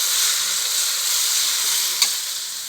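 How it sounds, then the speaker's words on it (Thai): Garlic and marinated pork fry in a hot pan for pad see ew with a loud, continuous, close sizzle and one brief clink of a utensil partway through, with no voices. "ผัดกระเทียมเริ่มเหลืองแล้วนะครับ เราจะใส่หมูหมักลงไปเลย"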